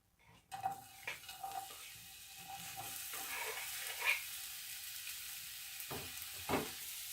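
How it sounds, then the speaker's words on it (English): Chopped green pepper and onion sauté in a little olive oil, a soft continuous sizzle broken by a few clinks and scrapes of stirring in the pan, close and fairly quiet with no talk. "I'm going to go ahead and saute that in a little bit of olive oil."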